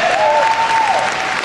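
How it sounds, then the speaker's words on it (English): A corporate event audience bursts into loud, dense applause, sustained clapping filling the whole moment with a brief whoop rising above it. "Give yourself a round of applause."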